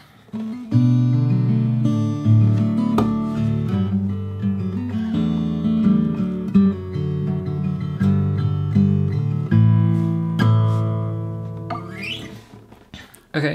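Solo acoustic guitar fingerpicking the pre-chorus of a song, a continuous run of plucked notes over low bass strings with occasional hammer-ons, close and clear before trailing off near the end.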